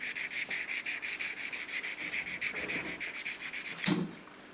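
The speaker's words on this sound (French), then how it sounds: "Je vais poncer mes ongles." Fingernails rubbed with a three-sided nail buffer, a steady rhythmic scratchy sanding at about four strokes per second, close and alone, ending with a brief knock.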